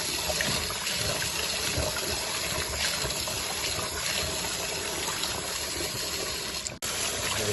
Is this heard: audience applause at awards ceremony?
no